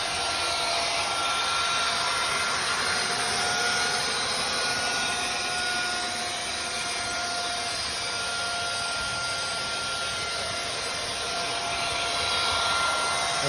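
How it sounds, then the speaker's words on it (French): A Numatic 440NX scrubber-dryer runs with its suction on, pulling water back up off the floor. It gives a steady, loud, broadband whoosh that holds unchanged from start to end, with no talking. "on réactive notre aspiration. On peut couper l'eau si on en a envie et on récupère ce qu'on a laissé au sol"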